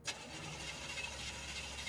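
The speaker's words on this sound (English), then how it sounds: "Start, you blasted car!" In a video game, a car engine turns over and settles into a low, steady running rumble, faint and continuous with no voices.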